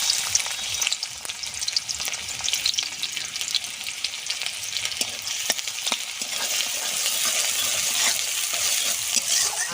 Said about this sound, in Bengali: আদা রসুন পেঁয়াজ দিয়ে একটু সুন্দর করে ভেজে নেব